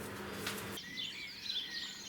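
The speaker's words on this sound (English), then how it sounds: "Once you can hear that many birds singing in the morning" Several small birds chirp and twitter in a morning chorus, thin high calls scattered and overlapping at moderate distance, following a short burst of broadband noise at the start.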